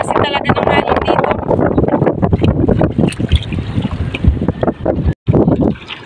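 Strong amihan monsoon wind buffets the microphone at sea near fishing boats, a loud rushing roar with gusty surges and a short dropout near the end.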